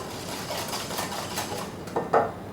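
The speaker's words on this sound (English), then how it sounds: "Go ahead and whisk that in." Granulated sugar is whisked into cream in a bowl for a crème brûlée, giving a soft, steady whisking swish close by that ends in two sharper clinks, with no talking.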